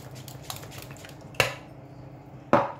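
A metal spoon clinking and scraping in a pot while milk is stirred into an oil-and-margarine mixture, with two sharp knocks against the rim standing out over a low background hum.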